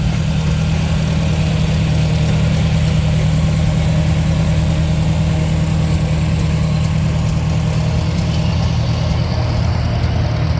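A tractor engine idles steadily at a tractor and vehicle parade, a continuous low rumble that stays loud and close throughout with no talk over it.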